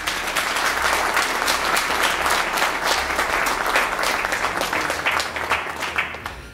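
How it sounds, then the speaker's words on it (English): Continuous audience applause at the ICAO Air Services Negotiation Event, ICAN 2018, a dense, steady wash of many hands clapping that stays loud throughout and fades slightly at the end. "So let's clap for him."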